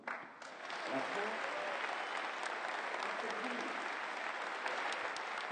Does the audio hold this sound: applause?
yes